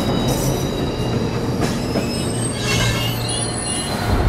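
A train runs through a common electric railway station in Gotham in the film The Batman, with loud rolling wheels, metallic squeals and rhythmic clatter sustained throughout.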